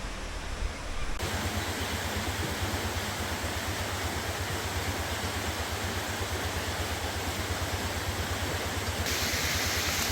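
Continuous broadband rush of flowing water at an outdoor hot spring in Chiang Dao, Thailand, steady and fairly loud throughout, like a stream or small cascade with no voices over it.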